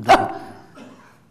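A single sharp dog bark, loud and close, followed by a brief softer trailing sound in a quiet room.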